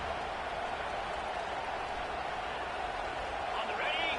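A football stadium crowd at a Penn State game roars in a steady, dense wash of cheering that holds throughout, with a commentator's voice heard over it.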